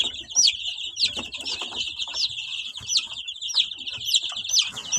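A rooster and fifteen-day-old chicks fill a coop with sound: rapid, high chick peeps repeat over low, intermittent clucking, with occasional soft rustles and flutters, all close by.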